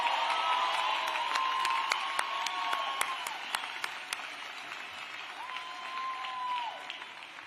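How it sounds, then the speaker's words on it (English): Arena audience applauding graduates at a community college commencement ceremony, a steady wash of many hands clapping with a few sharper claps and faint cheers over it, moderately loud and continuous throughout. "Audience, please give these graduates one more round of applause."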